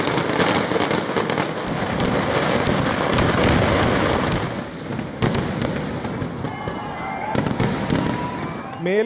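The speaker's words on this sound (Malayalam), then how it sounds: "പുതുമയാർന്ന വെടിക്കോപ്പുകളാണ് സാമ്പിൾ വെടിക്കെട്ടിനും പൂരം വെടിക്കെട്ടിനുമായി തയ്യാറാകുന്നത്" Fireworks for Thrissur Pooram burst in a dense, loud, continuous crackling barrage with sharp bangs, and a voice talks over parts of it.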